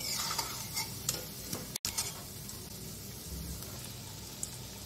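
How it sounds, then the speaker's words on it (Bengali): Banana flower fritters fry in hot oil in a pan with a constant close sizzle, while a utensil stirs them with scraping and light clacking touches throughout. "পরের বড়াগুলো আমি আবার ভেজে নিচ্ছি।"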